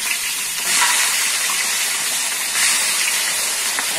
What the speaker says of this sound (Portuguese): Bora lá pôr pra fritar.